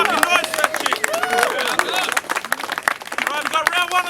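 A rap battle crowd erupts in loud clapping and whooping cheers, a dense burst of applause with shouting voices over it.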